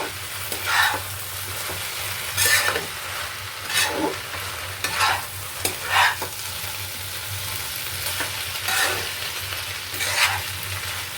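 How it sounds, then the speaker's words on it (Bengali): A spoon stirs fried dried loitta fish into a taro stolon curry in a pan, with repeated scraping strokes every second or so over a low continuous sizzle, close and clear with no talking. "এবার দিয়ে দেবো ভেজে রাখা শুটকি মাছগুলো। এটা দিয়ে নেড়ে দেবো ভালো করে।"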